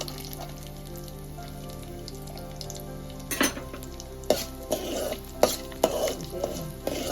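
Chopped garlic for gongura pachadi fries in a pan, a soft steady sizzle broken by several sharp clatters of stirring and scraping.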